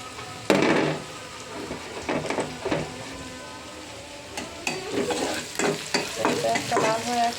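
Onions fry in a pan for a green bean mash, a steady sizzle broken by repeated spatula scrapes and knocks against the pan, close and moderately loud.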